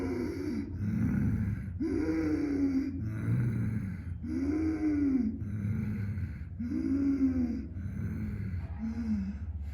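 A person breathes deeply and rhythmically through a constricted throat during a meditation breathing exercise, imitating snoring, with a raspy rumble on each of about five breaths, close and steady.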